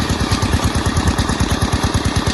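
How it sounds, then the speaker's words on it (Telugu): Engine of a hand borewell drilling rig running at a steady idle, a loud, close, rapid thumping chug with strong low-end vibration throughout. "దాని తర్వాత ఇంకా ఇంజన్ స్టార్ట్ చేస్తారు."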